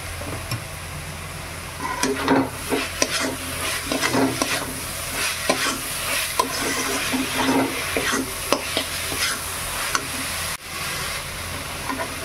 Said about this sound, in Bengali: এলাচ গুঁড়ো দিয়ে ভালো করে নেড়ে চেড়ে নিয়েছি।